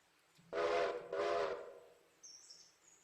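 A locomotive in the train simulation game Railroader starts up with two loud, drawn-out whistle blasts in quick succession, followed by fainter high tones as the sound fades.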